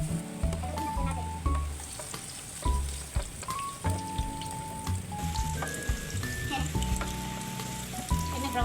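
Garlic sizzles and crackles steadily in hot cooking oil as it is stirred in a pan, a dense close frying hiss with scrapes, while cheerful music plays over it throughout.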